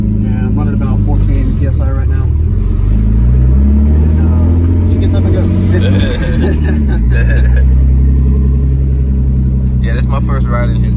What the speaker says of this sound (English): it's a 93 NA swapped to a twin turbo manual, stock turbos, boost controller, boost gauge, and I'm running about 14 PSI right now